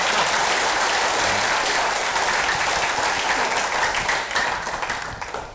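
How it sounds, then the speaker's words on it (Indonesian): Steady applause from an audience at a ceremony in Gorontalo, dense and sustained for several seconds before gradually thinning toward the end, with no voices over it. "Tepuk tangan juga untuk Pak Indra ya."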